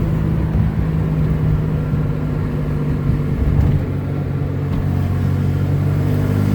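A 1977 Porsche 911S runs in first gear with a steady low engine drone and rumble from inside the cabin, holding fairly constant with a slight swell midway.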